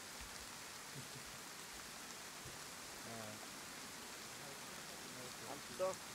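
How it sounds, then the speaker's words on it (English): Rain falls in the video game DayZ as a soft, steady hiss that stays constant throughout, faint and distant, with a few brief murmurs mixed in. "Ah, the rain falls."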